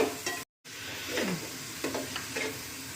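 Green chilli, ginger and garlic paste sizzle in a pan with chopped onion while being stirred, giving close scraping strokes over a steady frying hiss, with one brief silent gap early on.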